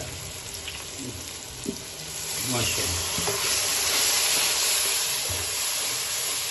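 Masala with green chillies for a cauliflower and meat curry sizzles loudly in the pan, swelling into a steady hiss as water is added, with a few stirring knocks and brief speech.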